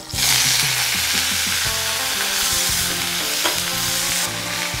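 Vadas fry in hot oil, a loud, continuous bubbling sizzle close by with strong crackling and a constant hiss, no talking.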